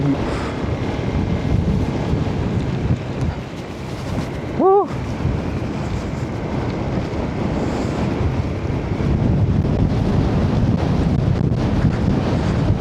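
Strong wind roars steadily into the microphone, a continuous broadband rush with gusty buffeting throughout, and no speech.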